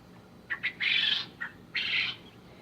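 Young bobwhite quail cross chicks give a run of short high chirps followed by two longer, loud piping calls, close up with no talking.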